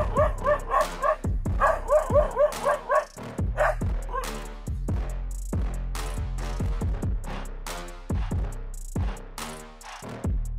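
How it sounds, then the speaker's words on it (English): A dog barks piercingly at a wild cat, a loud close run of sharp repeated barks and yips, with a few whimpering, whining notes mixed in. "the dog started barking piercingly"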